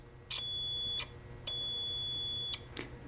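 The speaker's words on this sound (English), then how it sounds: "Now the beep indicates that each one of those fuses is good." Two long electronic beeps from a multimeter continuity test on the fuses of a battery combiner box, each about a second, separated by a short pause, followed by a brief third chirp; steady high tone over quiet background.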